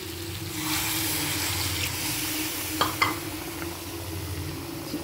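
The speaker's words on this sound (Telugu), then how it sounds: "ఇప్పుడు వాటర్ పోసుకుందాం." Water is poured into a pan of frying country chicken, the steady sizzle swelling with a brief burst of hissing and splashing midway, close by and moderately loud.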